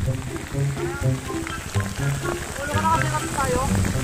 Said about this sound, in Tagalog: Ayun na ang ulan, no? Parating na.